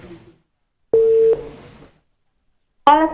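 On a live call-in radio show, a steady telephone line tone sounds for about half a second after a brief voice. A short silence follows, then another sharp electronic burst as the caller's line connects.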